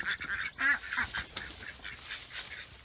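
Farm geese and ducks honk and quack in an outdoor pen, several harsh nasal calls close by over a steady background hiss.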